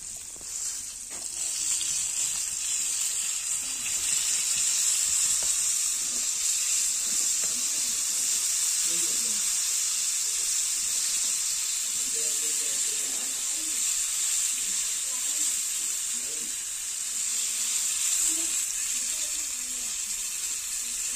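Crabs frying in a pan, Malvani style, a continuous bright sizzle and hiss held at an even level for the whole stretch, close by, with no speech.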